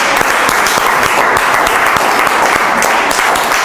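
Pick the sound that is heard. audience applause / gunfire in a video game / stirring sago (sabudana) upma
audience applause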